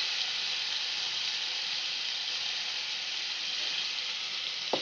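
Tomatoes and salt tossed into a hot pan over cumin, giving a steady, loud, close sizzle that holds evenly throughout, with a brief sharper crackle near the end.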